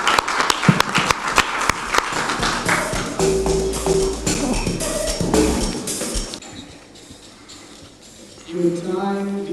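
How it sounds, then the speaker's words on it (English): A hackathon audience claps as an innovator is welcomed on stage at a health and climate event, dense applause fading out midway, followed by quieter room sound and a faint voice. "A round of applause, please."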